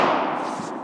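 A rifle shot hits a small 7 cm steel gong outdoors, producing one loud, broadband impact that rings briefly and fades within a second, with no voices.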